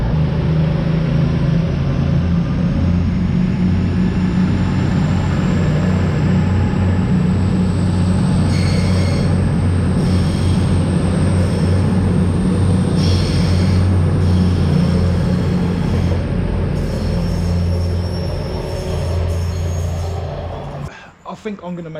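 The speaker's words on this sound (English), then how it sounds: "I think I'm going to make this next train the last one" A freight train rumbles loudly and steadily through Wellingborough railway station for about twenty seconds, wheels droning and clattering close by before the noise suddenly drops away.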